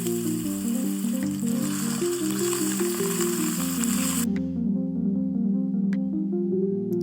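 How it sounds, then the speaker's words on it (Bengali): Potatoes fry in hot oil spiced with cumin, nigella seeds, a bay leaf and cinnamon for a vegetarian cabbage curry. A loud, steady crackling sizzle runs over a soft tonal background and stops abruptly partway through, leaving only the quiet hum. "এবার এর মধ্যে আলুগুলো ভেজে নেব।"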